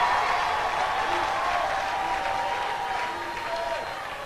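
A church congregation applauding and cheering for Jesus Christ at a reverend's seventieth birthday celebration, a steady wash of loud, continuous clapping from a large crowd that tapers slightly toward the end, with voices mixed into the noise.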